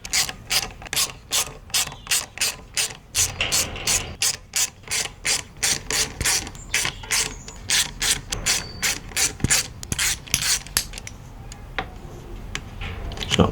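A ratchet clicks in quick bursts while tightening 10mm bolts on the clutch of a Triumph Speed Triple 1200RS, a close, crisp, rhythmic pawl ticking repeated many times.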